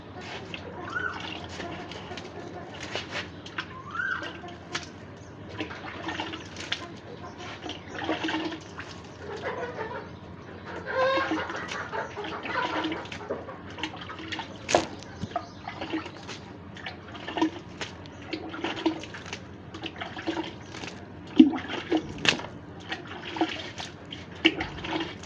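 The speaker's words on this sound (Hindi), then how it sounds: "इधर पानी डालना है हमने" Water splashes and trickles as it is poured lightly onto garden plants, uneven pours and drips running on and off for a long stretch, fairly close, with faint background noises and no speech.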